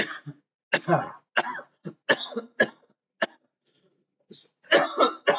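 Repeated harsh coughs and throat clearing come in short separate bursts with silent gaps between them, close and fairly loud, and a longer cluster of coughs follows near the end.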